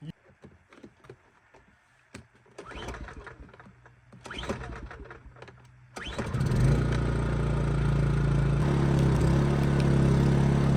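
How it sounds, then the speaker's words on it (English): Generator engine at an off-grid log cabin building site, a few tries to start amid handling clatter, then it catches with a roar and settles into a loud, steady running drone. "Okay, pump's on. Generator's running. Mixer's ready."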